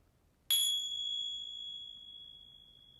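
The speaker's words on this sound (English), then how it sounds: "try to listen to the chime one more time all the way through" A single chime is struck once during a yoga session, a bright ringing tone that lingers and slowly fades over several seconds in a quiet room.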